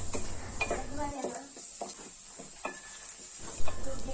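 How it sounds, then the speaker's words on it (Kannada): Spices with chicken masala, pulao powder and ginger-garlic paste frying and being stirred in a pan, with a steady soft sizzle under scattered scraping and clinks of a spoon against the metal. "ಇದನ್ನು ಸ್ವಲ್ಪ ಚೆನ್ನಾಗಿ ಫ್ರೈ ಮಾಡ್ಕೊಳ್ಳೋಣ."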